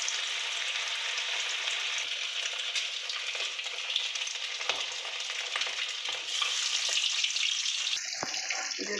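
Pieces of katla fish frying in hot oil for a Bengali kalia, a steady close sizzle and crackle running throughout, growing a little busier near the end.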